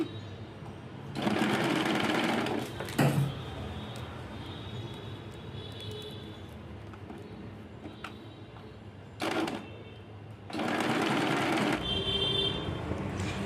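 Sewing machine stitching strap ends in place on a bag, heard in several short bursts of close, rattling motor whir separated by quieter pauses with faint handling sounds.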